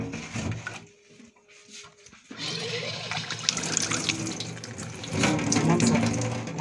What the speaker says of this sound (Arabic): انا عايزه اغسلها بس بالميه عشان اوريكم